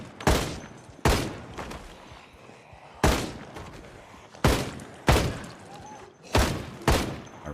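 Gunfire in Project Zomboid, a zombie survival game: seven loud, sharp shots at irregular intervals of about one to one and a half seconds, each with a short decaying echo.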